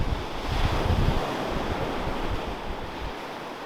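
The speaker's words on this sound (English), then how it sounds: "But that is also why they say never turn your back to the waves in Iceland." Ocean surf rolls onto an Iceland beach, a loud continuous wash of breaking waves mixed with wind buffeting the microphone, with no voices.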